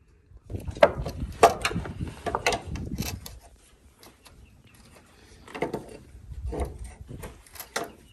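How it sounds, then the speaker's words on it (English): Removing a part with a crescent wrench during ranch building repairs: a few close metallic clanks, scrapes and knocks in irregular bursts, with quiet gaps between. "Take this off first, and we need that crescent wrench."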